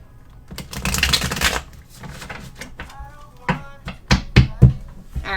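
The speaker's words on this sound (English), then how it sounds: "I'm pretty good at shuffling at this point." Tarot cards being shuffled by hand, with bursts of riffling and snapping card edges, some sharp close clicks, and a few soft murmured words in the background.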